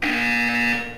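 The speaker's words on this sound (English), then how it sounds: "When you hear the buzzer, look up at the ceiling." In the video game Portal 2, a single steady electronic buzzer tone sounds loud and close for about a second before fading, with no talking.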